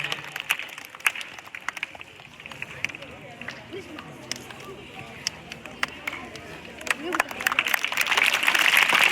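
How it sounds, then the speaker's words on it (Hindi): Schoolchildren clap to welcome a guest at a farewell function for a teacher at a government senior secondary school in Rajasthan, scattered uneven claps building to a fuller, louder patter toward the end. "बच्चे तालियों के माध्यम से आपका स्वागत करें।"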